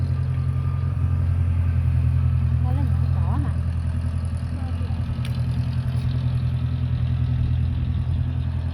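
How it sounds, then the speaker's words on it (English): An old restored farm tractor engine runs steadily, a loud low droning hum that stays constant throughout, with faint voices under it. "That's a restored tractor."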